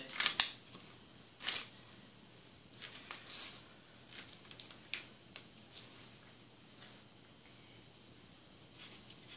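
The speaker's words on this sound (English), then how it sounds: "And no, I'm not using my best shears." Old hair shears snip through a wig in a few crisp, scattered cuts with quiet pauses between, close up and fairly soft, no voices.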